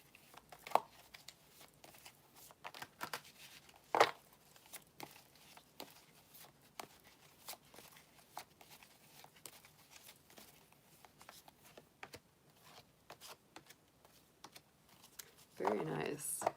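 Tarot cards from an animal tarot deck are shuffled and drawn, giving a quiet run of soft crinkly slides, taps and flicks, with a louder riffle near the end, over faint room tone and a few spoken words.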